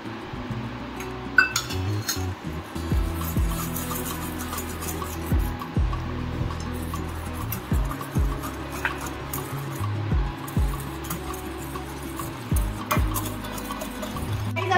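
Dalgona coffee being whisked from sugar, water and instant coffee in a cup, giving repeated light clinks and scrapes of a spoon against glass in a steady stirring rhythm, close and moderately loud with no talk.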